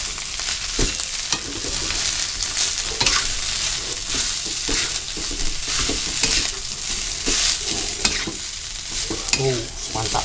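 White rice being stir-fried for nasi goreng putih, with a steady close sizzle and repeated scraping and clanking of a spatula against the pan, continuous throughout with no talking.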